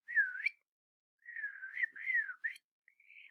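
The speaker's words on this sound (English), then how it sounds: "and suddenly out came a whistle." A person whistles clear, wavering tones in three short phrases separated by pauses, alone in a quiet room.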